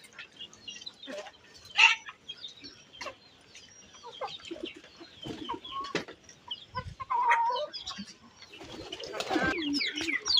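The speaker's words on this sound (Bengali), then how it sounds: "এই যে এখানে আমার হাঁস মুরগিগুলোকে খাবার দিয়েছি" Ducks and chickens peck at a feed of bran and rice husk mixed together, with irregular close clucks, soft calls and pecking scuffles scattered among quieter gaps.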